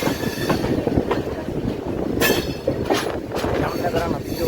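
A general-class passenger train runs near Khambhalia in Gujarat, heard from inside a coach as a loud continuous rattling rumble with rhythmic clatter and a few sharp wheel squeals.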